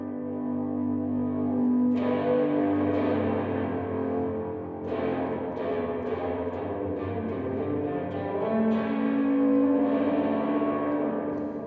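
Sustained instrument notes run through a dual-tank stereo reverb effect unit, each chord swelling and then trailing off in a long, washy decay. New notes enter every few seconds, and there is no talking.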